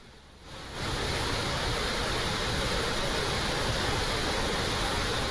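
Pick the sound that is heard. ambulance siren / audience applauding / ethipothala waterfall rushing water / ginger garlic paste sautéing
ethipothala waterfall rushing water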